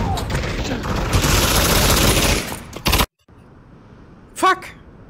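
Gunfire in the VR shooter Pavlov VR, a dense, loud, close burst of rapid shots for a few seconds that cuts off abruptly into near silence, followed by a brief voice.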